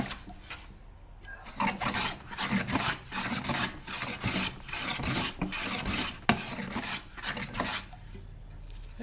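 A Veritas 4 1/2 hand plane taking fine, thin wood shavings: a steady series of rhythmic rasping strokes, close and fairly loud, repeating for about nine seconds without talk.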